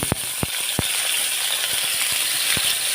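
Garlic and onion sizzle in hot cooking oil as the base for Filipino ginisang monggo, a steady close hiss dotted with sharp crackles and pops, with no talking.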